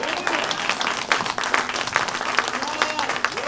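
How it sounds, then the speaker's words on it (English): Church congregation clapping during a sermon, a continuous crowd applause with scattered voices and cheers mixed in, moderately loud and sustained. "Go ahead, you can clap, you can clap,"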